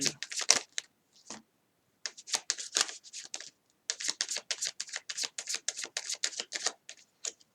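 Tarot cards are shuffled for a reading in rapid papery riffles and flicks, coming in clustered bursts with short silent gaps, close and crisp.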